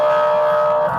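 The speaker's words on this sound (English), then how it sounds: "that is quite the odd siren that they have" An unusual police car siren sounds during a traffic stop on a body camera, a loud, steady wailing tone held close for a brief moment.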